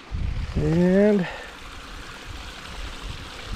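A babbling mountain brook keeps up a steady, hissing rush of flowing water close by, with a voice briefly heard over it.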